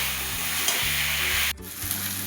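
Spices with tomato and a pinch of turmeric fry in oil for a rohu (rui) fish curry, a continuous close sizzle broken by rhythmic scraping stirs and a brief abrupt break near the end.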